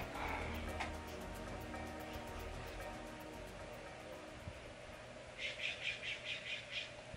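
Birds calling outdoors, a faint series of about six quick chirps near the end over a steady background hiss.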